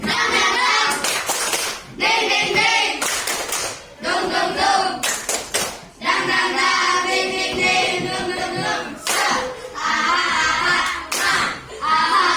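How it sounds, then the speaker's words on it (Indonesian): Children clapping a rhythmic classroom cheer in sharp, patterned bursts of hand claps with brief pauses between rounds, loud and close, with young voices mixed in. "Ya, tepuk semangat."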